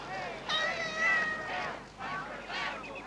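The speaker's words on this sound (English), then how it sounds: "Oh, what a nice cat." A cat meows several times in a row, with drawn-out, rising and falling cries close to the listener, amid light background noise.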